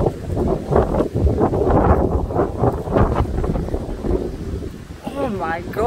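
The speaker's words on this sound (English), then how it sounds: "the wind is up" Strong gusty wind in a severe thunderstorm windstorm roars and buffets the microphone continuously, with a voice speaking over it near the end.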